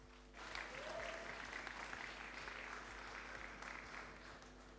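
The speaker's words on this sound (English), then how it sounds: "Tom from Gifter, round of applause, guys." Audience applause at a talk, a steady bed of clapping over a low electrical hum, moderately distant and continuing evenly throughout.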